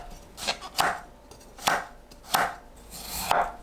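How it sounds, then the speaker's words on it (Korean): A knife chops onion and carrot into small cubes on a cutting board, five or six crisp, separate strikes in an uneven rhythm, close and fairly loud, with no talking. "양파와 당근을 가로 세로 1cm 크기로 썰어주세요."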